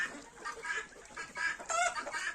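A hen clucks among white, heavy-line muscovy ducks of German breeding. Several short, moderately loud clucks come in quick succession from close by, with no talk.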